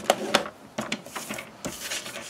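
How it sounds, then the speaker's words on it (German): Paper sheet being folded and creased along measured 7 cm lines for a small handmade Nikolaus gift, heard as a few close, dry rubbing and scraping strokes in short bursts with no talking. "Und an der langen Seite falzen wir jeweils von 7 bei 7 cm."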